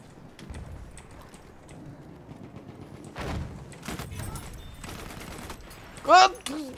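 Scattered gunfire pops amid Battlefield 1 game sound effects and muffled voices, with one sharper, louder shot standing out near the end.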